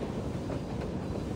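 Steady rumble of a train rolling along in the video game Reverse 1999, a continuous broadband clatter with faint rhythmic wheel clicks, close and even throughout with no voices.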